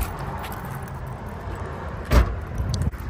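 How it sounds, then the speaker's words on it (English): A car door is unlocked and opened with a sharp click and thunk, while keys jangle in brief light rattles around it, close by with no talking. "Alright, I unlocked this car."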